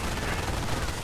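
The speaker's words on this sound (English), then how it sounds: "MG42 keeping things under fire, showing no breakthrough here, covering the retreat of the Grenadiers." Dense, continuous machine-gun fire from an MG42 in a World War II strategy game, a steady rattling burst filling the whole moment with a busy battlefield din behind it.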